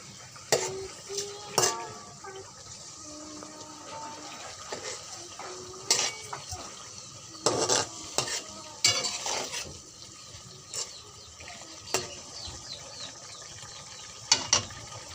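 Hilsa fish being stirred and fried in a pan, with scattered utensil scrapes and clatters over a low sizzle, in bursts with short pauses between.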